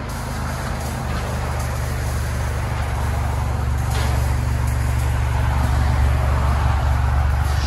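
A 2016 Chevy Malibu LT Turbo with dual exhaust and muffler delete idles steadily, a loud continuous low rumble heard close up without any talking.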